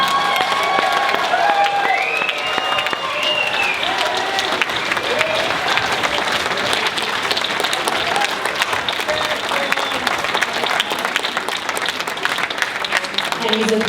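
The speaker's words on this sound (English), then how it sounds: "Please, another big round of applause for Dom and all our speakers." Wedding guests break into steady, dense applause with some cheering, a full room clapping continuously at even volume.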